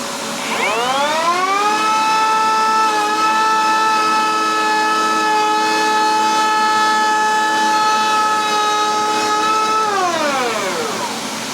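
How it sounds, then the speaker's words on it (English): A shop vac rigged up as dust extraction on a low-cost woodworking tool whines up to a steady high-pitched drone, holds it for about ten seconds, then spins down, with no talking. "I've rigged it up to shop vac, sort of best way I could for now"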